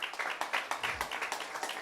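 Audience clapping hands in a church gathering during a Tamil Bible sermon, a steady patter of many hands heard at moderate distance, fairly faint and continuous for a couple of seconds.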